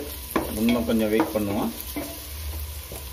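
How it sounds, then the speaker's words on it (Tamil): Onions frying until golden for vegetable biryani give a steady, close sizzle that runs under a voice and continues alone once the talking stops. "வெங்காயம் நல்லா பொன்னிறமாக வெந்துக்கிட்டு இருக்கு"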